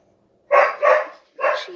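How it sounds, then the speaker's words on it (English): A dog barks three times in quick succession, loud and close, with short pauses between each bark and silence around them. "Who is she barking at?"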